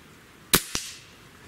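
A Benjamin Trail NP XL Magnum air rifle fires a 13.5 grain pellet into a white egg, giving one sharp crack followed a quarter second later by a second shorter snap, both alone against a quiet background.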